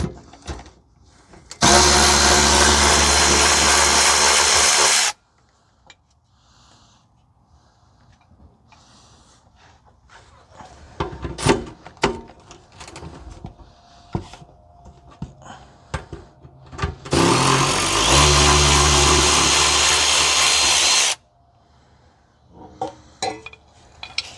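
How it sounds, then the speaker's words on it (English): Removing the 12 mm bracket nuts to free the exhaust resonator on a 2005 Toyota Corolla 1.8: two long bursts of loud power-tool whirring, with scattered metallic clinks and handling noises between them. "we need to remove the two nuts for the bracket to get the resonator out"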